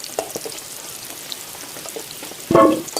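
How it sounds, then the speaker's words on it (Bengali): Potatoes frying in hot oil give a faint, steady sizzle with scattered soft crackles, closing on a louder clatter as they are stirred or lifted out. Nobody speaks. "এই যে আলুগুলো লাল লাল করে ভেজে নিয়েছি"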